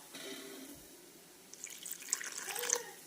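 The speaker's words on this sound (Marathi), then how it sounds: "इथे मी अर्धा कप पाणी घालत आहे आणि मिश्रण छान पातळ करून घेत आहे" Half a cup of water poured into thick urad dal batter in a kitchen, a soft, faint splashing trickle building over the last second and a half after a quiet start.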